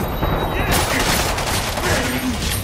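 Gunfire from a Killing Floor 2 boss fight against Hans Volter rattles in a loud, dense fusillade of rapid shots, continuous across the whole stretch with explosions mixed in.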